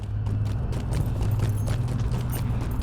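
Horse hooves clip-clop in a steady galloping rhythm while riding in Lord of the Rings Online, close and continuous beneath a low hum of game ambience.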